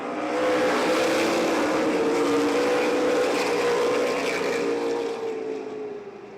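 A pack of race cars roars off at the green flag of a main-event race at Columbus Motor Speedway, the loud, layered engine drone holding steady close by before easing slightly at the end.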